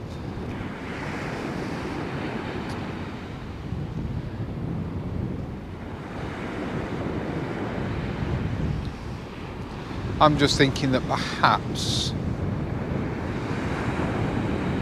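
Rough sea surf breaking on the beach at Sutton on Sea, a constant roar of waves with heavy wind buffeting the microphone, while someone speaks briefly over it.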